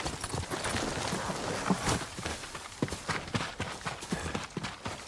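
Horse hooves clop in a rapid, uneven galloping rhythm in Ghost of Tsushima, close and fairly loud over a background of game ambience, slowing into scattered steps toward the end.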